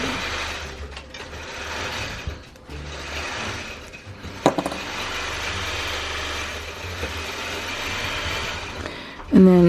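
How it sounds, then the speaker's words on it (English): A bobbin winder runs continuously nearby, winding longarm quilting bobbins with a steady mechanical whir and faint ticking, and a brief sharper clunk partway through. "If you hear the machine, I'm sorry, but I love this bobbin thingamajig because it could wind regular bobbins and"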